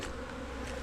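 Honeybees buzz in a steady, close swarm around the hives during a December bee yard inspection in Bathsheba, a continuous brief drone with no talking.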